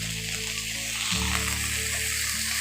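Cucumber and potato pieces fry steadily in hot oil with turmeric and salt, a constant close sizzle with a low hum shifting partway through, no talk.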